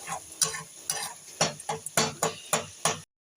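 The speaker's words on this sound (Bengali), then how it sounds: "ভালো করে কষিয়ে নেবো আমি সব কটা উপকরণ দিয়ে" Spices, chilli powder and Kashmiri red chilli powder being stir-fried in a pan for a koi fish curry: rhythmic scraping strokes of a spoon against the pan, about eight distinct stirs over a soft sizzle, close and clear.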